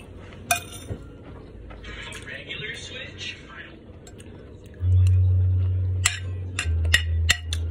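Cutlery clinks and taps against plates during a meal of pork giniling and chopsuey, scattered sharp clicks near the mic, with a low hum and voices talking late.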